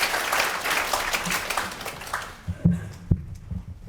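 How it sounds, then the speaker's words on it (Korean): Warm applause from a public debate audience welcomes a speaker, steady at first and then thinning to a few scattered claps and small knocks as it dies away. "여러분 힘찬 박수로 맞이해 주십시오."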